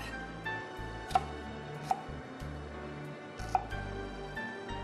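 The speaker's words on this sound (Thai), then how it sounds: "ซึ่งจะหั่นเต๋าเล็กๆสำหรับหอมแดงนะครับ" A knife finely dices shallots on a cutting board for a Mexican-style salsa, a few sharp, separate knocks sounding faintly over a steady low background with no talking.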